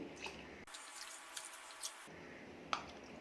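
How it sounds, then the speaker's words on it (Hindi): Water poured into a gram flour and yogurt mixture for Punjabi kadhi, heard as a soft splashing pour with faint drips, close and quiet, with no talking. "अब इसमें पानी ऐड करेंगे।"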